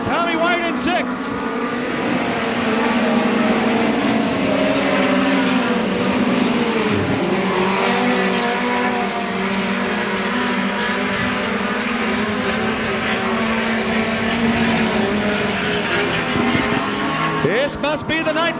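Midget race cars at speed during a Friday preliminary at the 1991 Belleville Midget Nationals, a loud continuous engine roar sustained throughout with a commentator talking over it.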